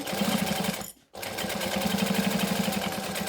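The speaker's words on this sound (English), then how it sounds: "Pop it under the needle and again stitch" A home sewing machine runs steadily, stops briefly, then resumes, stitching fabric near the needle at close range with a continuous whirring drone.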